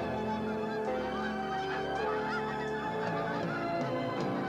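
A Canada goose honks loudly and close by. The calls repeat in quick rhythmic succession over a constant background wash.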